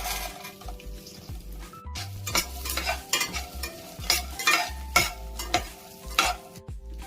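Chili, turmeric, asafoetida and curry leaves sautéing in a pan for a paper poha mixture, with a spoon repeatedly scraping and clinking against the metal over a soft sizzle.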